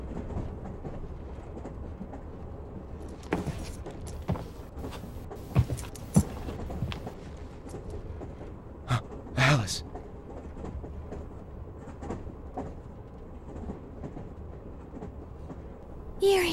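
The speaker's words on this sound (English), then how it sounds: "This train." A train runs through a Shadow Hearts 2 video game cutscene, a steady low rumble of the carriage with scattered clicks and rattles throughout.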